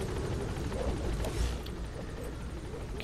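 Helicopter rotor and engine noise from Metal Gear Solid V: The Phantom Pain, a steady close rumble that swells briefly at the midpoint and then holds level.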